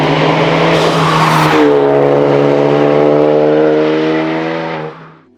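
A 2013 Ford Focus ST with a front-mount intercooler and Roush cold air intake, heard loud and close as its engine note rises and holds while it is driven hard through corners, tires hissing underneath, then fading at the end.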